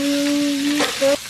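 Pork and carrots fry in a pan, a steady close sizzle running throughout with a short stir-like burst near the end and a sustained hum beneath.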